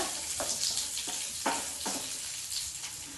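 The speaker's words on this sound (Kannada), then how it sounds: "ನೋಡಿ ಇವಾಗ ಈರುಳ್ಳಿ ಕೂಡ ಸ್ವಲ್ಪ ಫ್ರೈ ಆಗಿದೆ" Onion frying in a pan for capsicum paneer gives a steady, close sizzle broken by several soft scraping stirs at irregular intervals, with no voices.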